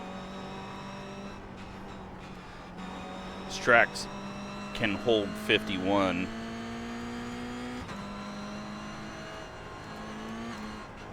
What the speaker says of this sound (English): So many cars all over the place.